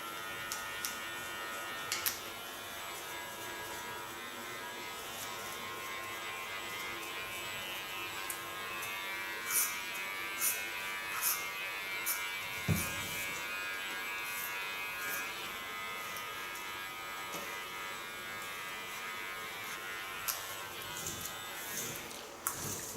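A large electric hair clipper shaves hair for an under-shave hairstyle with a continuous close buzz over about twenty seconds, broken by brief clicks and taps, with no talking.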